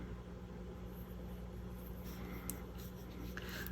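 A pen scratches across a label in a quiet room, faint soft strokes over low background hum.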